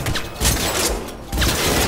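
Loud repeated shots from a powerful gun in the video game Cyberpunk 2077, two heavy bursts separated by a brief lull.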